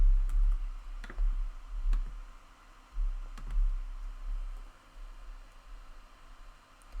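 Mouse clicks while uploading an image to an online store builder, several sharp, isolated clicks scattered over quiet background rustle.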